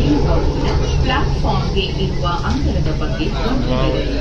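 A Bengaluru metro train rumbles steadily with low, continuous rolling noise, while people talk over it.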